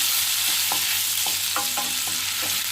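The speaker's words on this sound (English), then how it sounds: "Saute well till the raw flavor of the garlic and chilli goes." Finely chopped garlic and a green chilli sauté in a hot pan for creamy palak paneer, a steady close sizzle broken by several scraping stirs of a spoon, with no voices.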